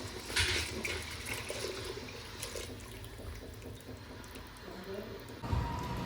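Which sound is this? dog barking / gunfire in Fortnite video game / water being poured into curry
water being poured into curry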